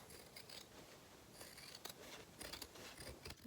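Scissors cut along the bottom edge of fabric, a faint, close, steady snipping and rustling over low background hiss, with no voices.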